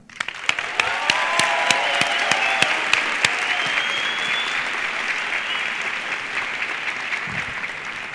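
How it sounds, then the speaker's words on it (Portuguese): Applause at a lecture for the organizers of the academic centers: a few sharp claps start it, then dense, sustained clapping from a large audience that slowly thins toward the end. "uma salva de palmas grande para todos aqueles que participam da organização dos centros acadêmicos"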